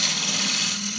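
A half-inch spindle gouge cuts a chamfer on oak spinning on a lathe, a brief, bright, hissing scrape over a low motor hum, close and steady for about a second.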